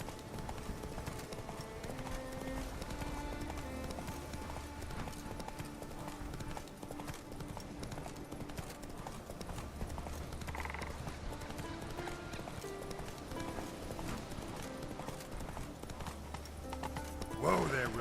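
Roach the horse gallops in The Witcher 3, a steady rapid clip-clop of hooves running throughout over layered game music, with a brief snort or whinny near the end.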